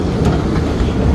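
A high-speed train at the Jeddah station on the line to Mecca, a loud, steady low rumble of rail noise close by with no talking.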